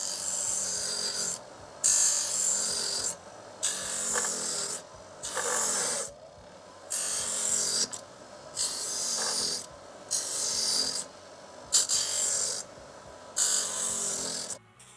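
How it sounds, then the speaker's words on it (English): A wire brush rasps over a coconut shell to strip off its fibers, producing about ten rhythmic harsh scraping strokes separated by short pauses, close and clear. "Gonna take the fibers off with this wire brush."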